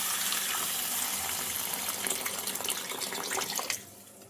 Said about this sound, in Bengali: এটা জল ঢেলে দেবো